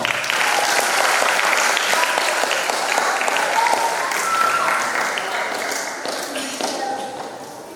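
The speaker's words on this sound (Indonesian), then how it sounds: "Boleh tepuk tangan dong." Steady, dense clapping from a seated audience at a public lecture in an Islamic boarding school setting, sustained throughout and tapering slightly toward the end.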